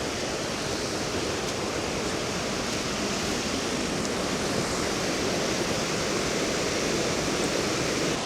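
Hareshaw Linn waterfall, swollen after heavy rain, pours in a dense, constant roar of rushing water, loud and close, steady throughout without any voices.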